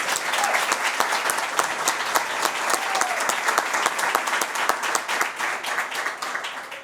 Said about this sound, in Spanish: Un aplauso para su autor, por favor.